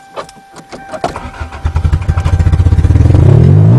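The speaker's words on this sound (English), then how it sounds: "so now let's see if it cranks" A Toyota GTS starter grinds in stuttering pulses that quicken into a fast rhythmic cranking and then catch into a rough, rising engine roar, loud and close, with no talking.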